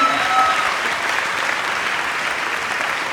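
Sustained audience applause fills a hall at a film event honoring a director, dense and steady clapping throughout at close range with no talk over it.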